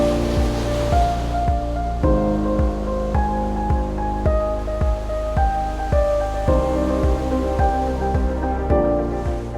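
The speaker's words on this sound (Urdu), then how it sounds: "میرین ڈرائیو پر لگی روڈ لائٹس کی روشنی میں پانی کی ساحل سے ٹکراتی لہریں قابل دید ہوتی ہیں۔" Sea waves break and wash against the shore along the Marine Drive seafront in Gwadar, Balochistan, a steady close roar of surf with regular low thumps, accompanied by a melodic music track and no speech.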